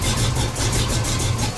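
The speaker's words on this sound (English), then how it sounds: "You know that lopey idle that you hear from cool cars?" Car engine with big cams idling, a steady rumble with a regular uneven lope pulsing about every quarter second, close and alone.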